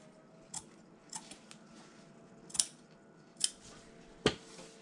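Scissors trimming liner fabric for a bag, giving five separate crisp snips spaced about a second apart in a quiet room, with a faint hum behind.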